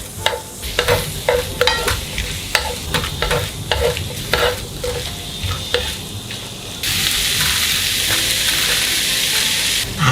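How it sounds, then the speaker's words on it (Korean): Fish cake, mushrooms and chives being stir-fried in a pan, with repeated scraping strokes of a utensil over a sizzling base, followed by a louder, even hiss of frying alone. "이렇게 해서 골고루 섞이도록 잘 섞어주세요"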